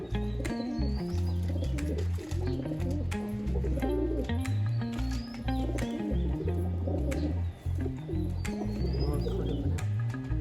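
Pigeons coo in overlapping low, throaty calls close by while pecking grain from a bucket, a continuous rolling murmur with scattered sharp taps and faint chirps.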